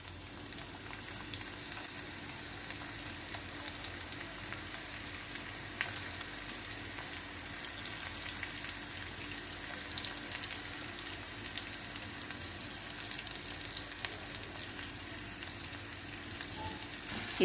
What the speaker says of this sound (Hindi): इसे पिंकिश कलर होने तक भून लेना है।